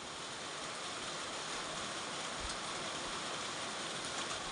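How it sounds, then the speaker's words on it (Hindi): Steady monsoon rain falling in a hill village in Uttarakhand, a dense continuous hiss at moderate distance with no distinct drops or voices. "मौसम में बढ़िया बारिश हो रही है, बहुत अच्छी बारिश कही जा सकती है"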